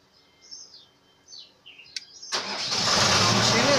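A car engine cranks and catches at about 2.3 seconds, then runs steadily and loud, after faint bird chirps in a quiet setting.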